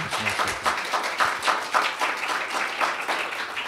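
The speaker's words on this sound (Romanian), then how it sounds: "Haideți să oferim o rândă de aplauze pentru" An audience claps after a lecture on yoga, guru and disciple, a dense, even ripple of many hands at moderate volume that carries steadily without voices over it.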